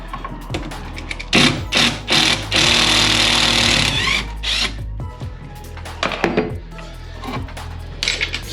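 Removing a screw from a bathroom vanity unit: close, loud metallic scraping, ratcheting and clattering bursts of a driver working the screw, in irregular stops and starts.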